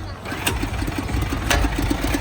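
A broken-down tractor's engine starts up on a roadside and runs with a steady, rapid mechanical chatter, loud and close, with a few sharper knocks in the rhythm.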